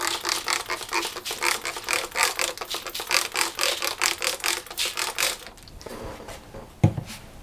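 A handheld spray bottle mists water over bread buns for Mexican bolillos, with a long run of quick, rhythmic broadband hissing pumps close by, ending in a brief clatter.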